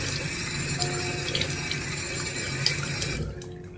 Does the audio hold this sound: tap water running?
yes